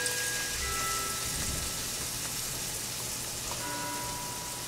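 Cornbread patty batter frying in hot oil, a steady dense crackling sizzle like rain, close and constant throughout with no talk.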